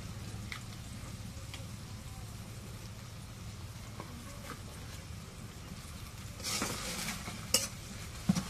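Cumin paste and garlic paste fry in a pan with a low, steady sizzle and soft stirring scrapes, and a louder burst of crackling near the end.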